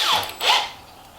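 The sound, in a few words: power drill drilling holes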